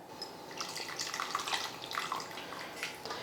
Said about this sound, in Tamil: இந்த புளியை வந்து கரைச்சி வடிகட்டிக்கலாம்.